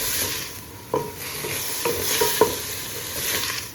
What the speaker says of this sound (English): I'm going to let the onions continue to saute until they get nice and soft and translucent.